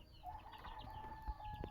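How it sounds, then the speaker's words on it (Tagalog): Chicks and chickens peep and cluck softly amid farmyard background noise, with a brief thump partway through and no speech. "yung mga sisiw dito hindi mailap eh"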